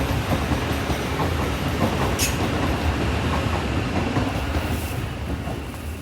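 Train rolling past near a railway tunnel at a campsite, a loud continuous rumbling roar with faint rhythmic clatter that holds steady and eases slightly at the end.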